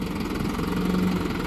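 A New Holland 5630 tractor, a 75 HP four-cylinder turbo diesel, runs at a steady idle with a continuous low engine rumble and vibration, close and unbroken throughout.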